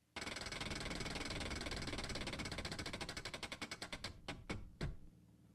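A spinning wheel used for choosing books gives a rapid ratcheting clatter that slows into spaced, distinct clicks before stopping, close and loud with no talking.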